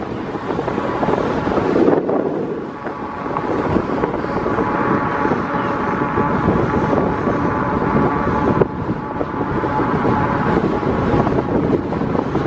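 Steady roaring wind buffets the microphone outdoors while riding a Lectric XP e-bike, a loud broadband rush with a faint engine-like hum underneath and no voices.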